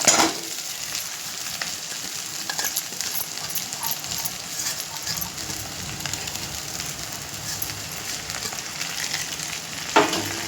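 Soaked, rinsed poha stir-fried in a pan with a little coriander, giving a steady close sizzle broken by occasional sharp spatula scrapes and clicks, with no talking.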